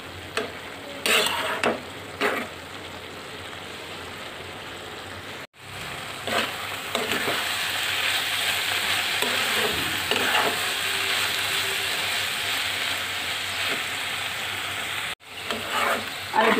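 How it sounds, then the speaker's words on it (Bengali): Green papaya stir-frying in a pan for a Bangladeshi home-style bhaji, giving a steady close sizzle with scraping stirs and utensil clinks, broken by two brief pauses. "আমি পেঁপেগুলো নেড়ে চেড়ে বাগি করে নিয়েছি, এখন এগুলো নামিয়ে নিব।"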